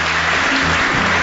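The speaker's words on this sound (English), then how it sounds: "a nice round of applause for our panel" A television studio audience claps loudly for a debate panel in a short, full burst of applause that fills the whole moment, with no voices over it.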